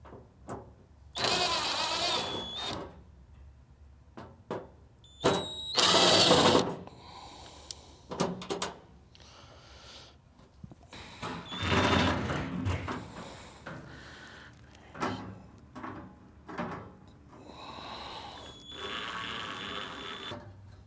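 Driver removing screws from the hopper panel of a Camp Chef Apex pellet grill, with several short whirring bursts and clicks spread across the span, close and alone without talk.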